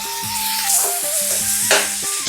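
Spices and boiled, drained cabbage sizzle loudly and continuously in hot oil, with a steady close frying hiss and brief stirring scrapes throughout.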